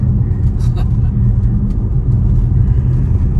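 Tesla car cruising at around 75 miles an hour on a road, a steady low road rumble and tire drone filling the cabin throughout, with a few faint higher clicks above it.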